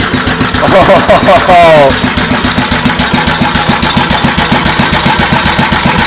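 A vintage Kohler Command Pro 8 HP engine runs steadily close by with a rapid, even pulsing throb, while a voice speaks briefly near the start.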